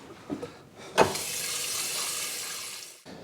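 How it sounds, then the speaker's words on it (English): Water runs steadily from a tap into a vase, starting abruptly with a splash and pouring as a continuous broadband rush for about two seconds before cutting off. "you can add water to the vase"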